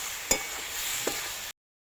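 Tomatoes, salt, ground spice, dried red chilli and ginger-garlic paste sautéing in a pan for a goat liver curry: a steady close sizzle with two soft stirring scrapes, cutting off after about a second and a half.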